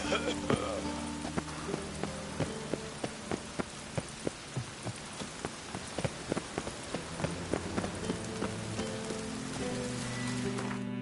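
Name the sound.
rain falling, from video game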